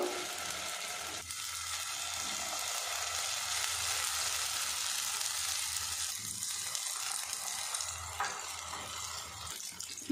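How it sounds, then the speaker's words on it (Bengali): An egg and eggplant batter hits hot mustard oil and sizzles steadily, a dense crackling hiss that carries on without pause, with no one speaking. "এবার এই তেলের মধ্যে ডিম আর বেগুনের মিশ্রণটা দিয়ে দেব।"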